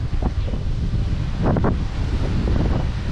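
Strong night wind at a backyard observatory buffets the microphone in a steady low roar, with gusty rumbling bursts throughout; no voices.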